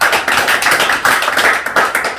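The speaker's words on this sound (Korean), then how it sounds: "박수 한번 쳐주세요" An audience at a motivational speech applauds together, a dense, loud, steady clapping with a rhythmic pulse that carries through without a break.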